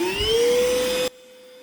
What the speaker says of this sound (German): den Staubsauger wieder einschalten